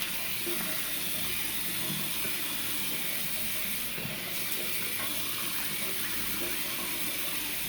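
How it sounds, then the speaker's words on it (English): Hot water from a sink tap splashed onto a face before a wet shave, a steady close broadband wash of running water with soft splashing throughout. "I'm just going to apply hot water to my face"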